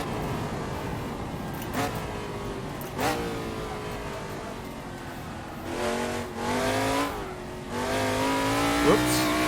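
McLaren Can-Am race car in the Assetto Corsa sim at Bridgehampton, its engine droning steadily and then revving up through gear shifts on a 4-speed gearbox, with rising pitch sweeps and brief breaks between gears.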